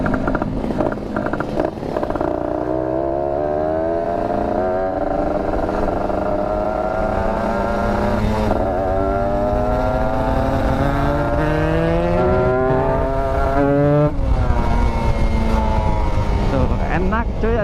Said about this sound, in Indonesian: Ini motor spek touring, tapi kalau dibejak tuh kayak spek balapan.